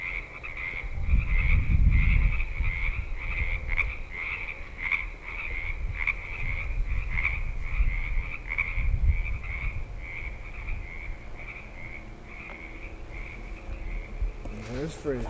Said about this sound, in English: there's lots of frogs out there